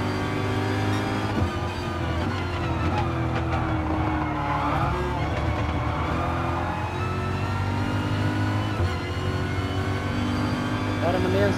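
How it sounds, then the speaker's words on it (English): Gr.3 race cars lapping the Sardegna road track in Gran Turismo Sport make a loud, continuous engine drone with shifting revs as cars run close together, with a voice talking over it. "That car sounds nice, huh?"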